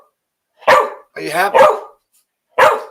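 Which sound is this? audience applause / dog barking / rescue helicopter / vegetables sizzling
dog barking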